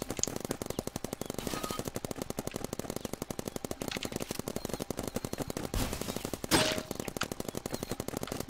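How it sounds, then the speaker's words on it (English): Automatic paintball guns fire rapidly in a Roblox game, with dense, evenly spaced bursts of shots that continue throughout at a steady loud level. "And they're using automatic guns."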